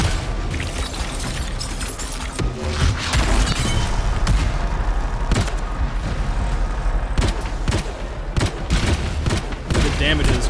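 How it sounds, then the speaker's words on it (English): Rapid gunfire and booming weapon blasts from the sci-fi shooter Anthem during a hard-difficulty stronghold mission, a loud continuous barrage of bursts and impacts with a voice talking over the game. "Look at the damage of this gun."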